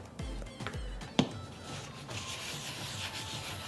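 Oil being rubbed by hand over a pan, handle, lip and bottom included, giving soft continuous rubbing and wiping strokes with a few brief louder scrapes, close and steady with no talking.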